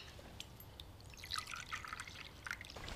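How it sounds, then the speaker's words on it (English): Coffee poured into a cup in a kitchen, a light trickle with small drips, faint and close. No one speaks. "Just pour the coffee."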